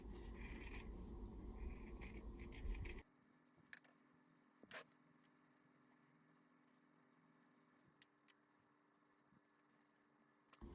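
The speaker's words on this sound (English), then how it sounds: "I've cut all the way around the edge" Scissors cutting fabric close around the stitched edge of a patch heart: a burst of rustling snips at first, then faint, sparse clicks and handling noises in near quiet.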